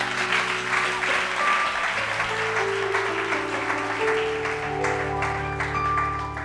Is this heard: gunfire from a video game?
no